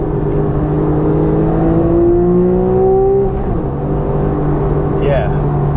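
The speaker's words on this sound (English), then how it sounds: "Listen to this downshift." A Porsche 911 GTS with PDK gearbox downshifting on a winding road, loud engine tone sweeping up and dropping with a quick blip, heard from inside under a voice.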